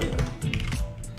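Quiet clicking on a computer keyboard, with soft irregular keystrokes over a low background hum and no voices.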